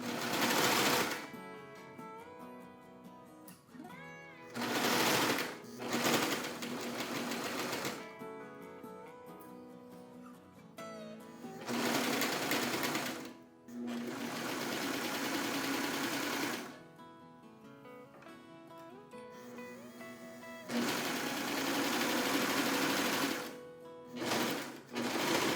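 A Bernette b68 sewing machine stitches sleeves onto a garment body in several long, steady runs of rapid mechanical whirring, separated by short pauses, close and fairly loud with no talking.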